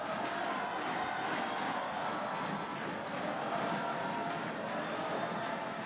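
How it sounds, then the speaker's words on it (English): A large crowd cheers and roars at an Axiata Cup men's singles badminton match, a dense, steady wall of noise with scattered claps and shouts, and a commentator's voice faintly under it. "You can hear the crowd really getting into the spirit of the Axiata Cup"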